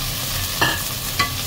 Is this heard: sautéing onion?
yes